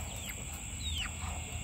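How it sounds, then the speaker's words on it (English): A rooster crowing at a distance on a farm over steady outdoor background noise, with a faint high whistling tone running throughout. "We got some more roosters here."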